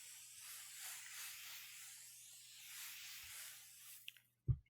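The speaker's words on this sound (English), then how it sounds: "So I'm going to spray." A spray bottle mists starch onto quilting fabric before pressing, giving a long soft hiss that swells and fades over several seconds, followed by a couple of short sharp clicks near the end.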